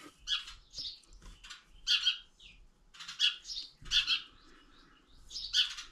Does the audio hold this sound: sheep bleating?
no